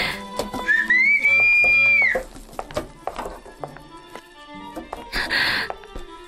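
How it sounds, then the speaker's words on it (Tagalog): A sharp rising-and-falling whistle rings out clearly near the start, followed by clattering knocks and scattered household noises. "Panay ang sipol niya at hindi ako makalabas"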